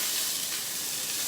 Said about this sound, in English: Getting a little bit of color, getting a light saute.